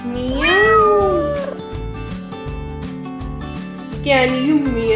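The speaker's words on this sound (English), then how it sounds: "Cat say meow." Cat meowing in a children's alphabet lesson, two drawn-out, rising-falling meows, the second shorter, standing out loud and close over a bouncy music backing.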